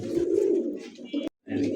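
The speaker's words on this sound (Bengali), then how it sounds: "শীশা অ্যান্ডোলেশিয়ানের একজোড়া শৌখিন কবুতর দেখতে পাচ্ছেন" A pair of Sheesha Andalusian fancy pigeons coo in low, throaty rolling calls, close and fairly loud, with a brief silent break before the cooing resumes.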